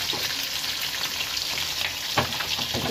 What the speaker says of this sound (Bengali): এই পিঠটাও একটু ভেজে নেব